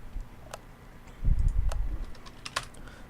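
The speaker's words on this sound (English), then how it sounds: "I'm just gonna press random keys up." Random keys are pressed on a computer keyboard during a PC game, a sparse scatter of sharp, close clicks with a duller thump in the middle and no talking.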